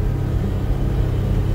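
A Bobcat running in low gear, four-wheel drive and work mode, towing a rake over wet clay, heard from inside the warm cab as a loud, steady low engine rumble with no talk.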